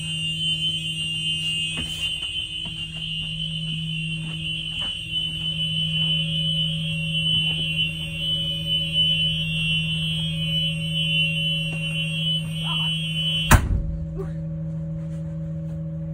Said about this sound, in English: Light and buzzer, both working.